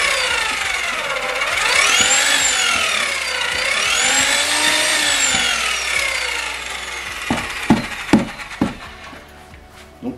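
Electric paddle mixer for tile adhesive runs loudly with a wavering, rising and falling whine, then winds down into scattered knocks and clatter near the end.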